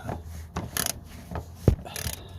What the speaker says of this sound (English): I'm using a 2-foot extendable ratchet to undo the spark plugs.